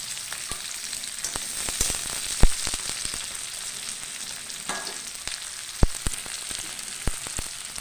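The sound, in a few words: onions frying in hot oil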